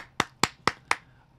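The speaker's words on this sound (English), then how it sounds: "I will applaud myself because no one else is applauding me and say job well done" A person's hands clapping four times at an even, unhurried pace, each clap sharp and close, with quiet between.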